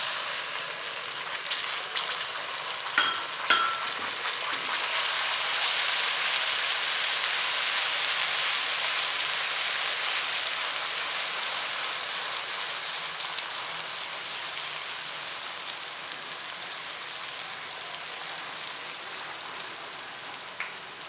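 Cumin and ginger-garlic paste fry with golden-brown onions for chole, a steady, even sizzling hiss that carries on at length with a few small pops near the start.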